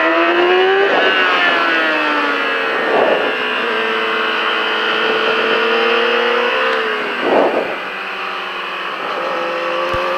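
Vehicle accelerating out of a corner on a race track, its engine note climbing in long rising harmonic sweeps, loud and close, with brief gear-change dips and no speech.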